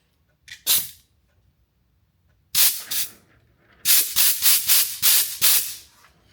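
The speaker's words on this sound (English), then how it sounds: "Let's see if air comes out of the hose." Compressed air bursting from an air tool hose: sharp hissing blasts, two short ones, then a longer burst, then a rapid series of about six short spurts, loud and close with near silence between.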